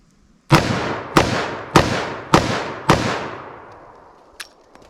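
Five loud .44 Magnum revolver shots fired at a target ring out one by one, evenly spaced about half a second apart, each with a booming decay, followed by a couple of faint distant pops.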